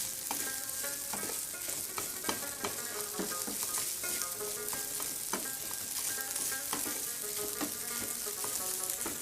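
Garlic rice stir-fried in a hot pan, a steady dense sizzle with frequent scraping and clacking strokes of a utensil against the pan throughout, close and loud, no talking.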